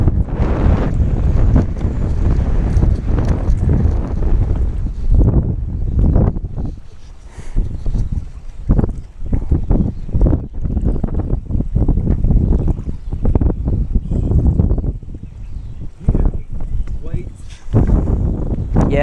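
Strong wind buffets a fishing boat on a lake on a windy day, loud gusty rushing and microphone rumble rising and falling in bursts throughout, with people talking intermittently over it.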